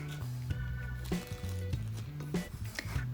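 A parcel holding a Viltrox 75mm f/1.2 lens for Fujifilm being unpacked, with quiet close crinkling and rustling of packaging and a few soft handling bumps.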